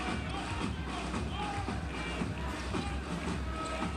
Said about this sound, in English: This crowd has been in it with us for the entirety of the first half.